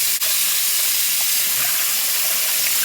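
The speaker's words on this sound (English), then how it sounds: "I'm just going to let the water run through them." Tap water pouring steadily over rinsed potatoes in a kitchen, a constant close hiss with no pauses and a faint click at the start.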